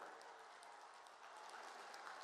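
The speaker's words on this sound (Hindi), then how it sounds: "फिर एक बार तालियां बजाइए भाइयों" A large crowd at a Narendra Modi political rally in Ghazipur, Uttar Pradesh, claps steadily in a continuous wash of applause, fairly faint and distant, with no clear voice above it.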